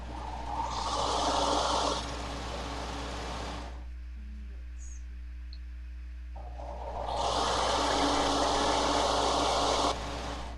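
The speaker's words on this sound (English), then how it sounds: "Sergers are noisy." A serger sewing machine runs in two loud whirring bursts of a few seconds each while stitching fabric pieces together for a table runner, with a quiet pause between them.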